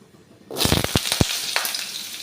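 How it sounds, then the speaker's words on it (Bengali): Panch phoron spices drop into hot oil beside a dried chili and burst into a loud, close sizzle with several sharp pops right at the start, then settle into steady frying. "এরপর আমি দিয়ে দিচ্ছি পাঁচ ফোড়ন পাঁচ ফোড়নটা একটু লাল হবে"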